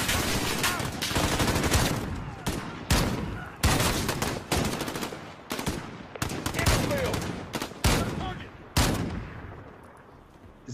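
Rapid gunfire from Call of Duty: Modern Warfare (2019) rattles in dense, loud bursts and single cracks with almost no break, with echoing tails between volleys.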